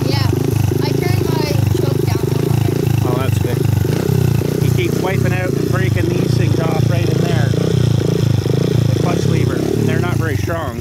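A motorcycle engine idles while warming up with the choke partly on, a steady, loud, close throbbing rumble that runs throughout while people talk over it.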